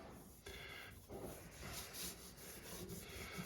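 A cloth or sponge rubs Mapei Grout Refresh along tile grout lines, making steady close scrubbing strokes in a back-and-forth rhythm with brief gaps between passes and no voice.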